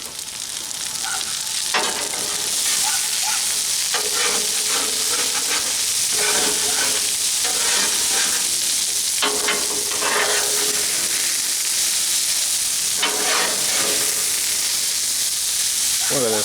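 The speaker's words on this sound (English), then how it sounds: "Mix everything together, those potatoes, the sausage, bacon, ham, peppers." Potatoes, sausage, bacon, ham and peppers sizzle loudly and continuously on a Blackstone griddle. A spatula scrapes and stirs through them in repeated bursts.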